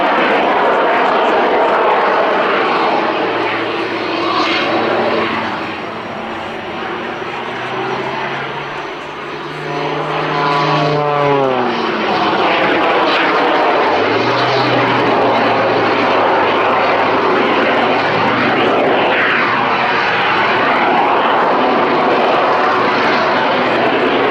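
A Pitts S-2S aerobatic propeller biplane performs at the Duxford Summer Air Show, its loud engine roar surging and sweeping in pitch as it climbs, dives and passes overhead over the course of a long display.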